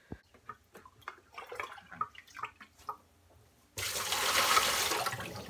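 Gentle splashing and dripping as water is scooped from a tub with a bowl, followed by a sudden steady rush of pouring water.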